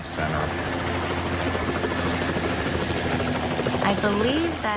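Helicopter in flight, carrying a patient to hospital: a steady, loud rotor and engine drone fills the background continuously while a person speaks over it.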